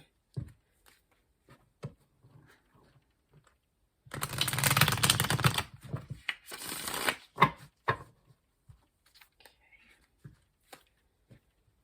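Quick riffle-shuffle of a tarot deck in a burst, surrounded by scattered soft taps and card handling in an otherwise quiet room.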